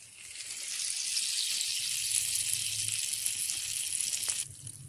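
Butter melts and sizzles in a pan, a bright steady hiss that holds at an even level and then cuts off abruptly near the end. Nobody speaks.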